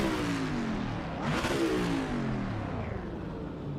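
A race car roars past close by, swelling to a loud whooshing peak and fading, engine note sweeping down as it goes, heard at a track where a Ford Mustang GT3 is starting up.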